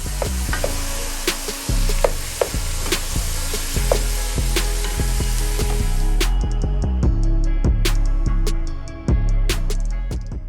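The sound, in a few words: ground beef and sausage being stirred and browned in pan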